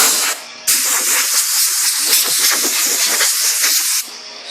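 An aerosol can of Duplicolor flat black vinyl and fabric dye sprays onto vinyl seats in one long, loud, close hiss lasting several seconds, with softer spray before and after.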